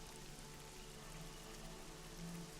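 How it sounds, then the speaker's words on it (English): Steady, faint rain patters as soft ambient backing for a cold, rainy day scene in a Dungeons & Dragons tabletop game session, an even hiss without pauses. "It is a cold and rainy day here."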